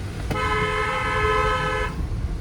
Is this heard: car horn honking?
yes